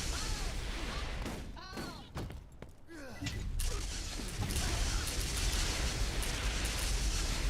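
An Eridian cannon-type weapon fires in the Borderlands video game, giving dense continuous booming blasts and crackling impacts over a noisy roar, with a brief dip before the barrage resumes loudly.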